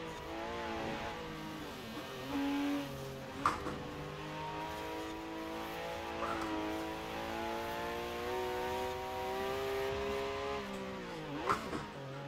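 Engine of a 1966 Porsche Carrera 6 race car in Forza Horizon 4, revving up and down through gear changes, with sustained buzzing tones and a few short shifts, steady and fairly close with no talk.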